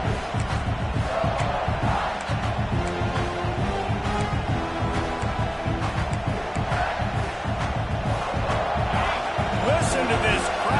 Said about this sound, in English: Listen to this crowd just shaking the girders of this place